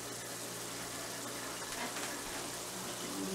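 Water rushing into a pot with rice for homemade tacos, a steady, close gushing pour that continues throughout with a hollow, filling tone.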